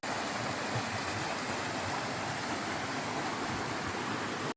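A creek runs down toward a river below on a hillside along the North Fork/Middle Fork trail loop, giving a steady, dense rush of flowing water that stays even and close throughout, with no talk.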